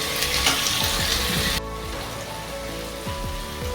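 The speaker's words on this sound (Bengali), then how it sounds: "এবার আমি টমেটো কুচিটা দিয়ে দিলাম। দিয়ে আরও আমি 3 থেকে 4 মিনিট রঙটাকে একদম নরম করে ভেজে নেব" Chopped tomato hitting hot oil with onions in a pan gives a loud, steady hiss that drops sharply to a softer, continuous sizzle partway through, with faint crackles underneath.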